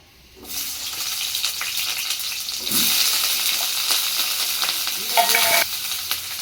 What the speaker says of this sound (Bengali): আলু ভাজার জন্য আমি কড়াই গরম হয়ে গেছে, এখন তেল দিয়ে দিয়েছি। এখন আমি আলুটা দিয়ে দেব